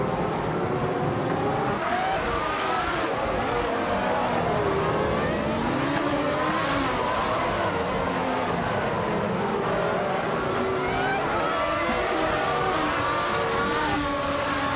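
Race cars, including a 1995 McLaren, roar around the Okutama Drift track in a racing video game, engines whining and rising and falling steadily and continuously at close range.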